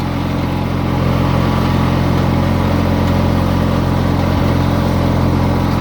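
A cheap scrap-yard riding lawnmower engine held at full throttle, a loud, steady, close droning roar with a buzzing rumble and no talking.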